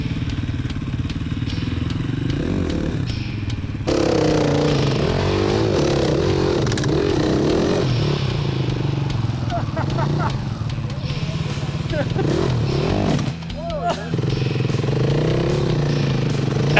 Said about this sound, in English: centimetre by centimetre, the boys and Mal inched his bike up that hill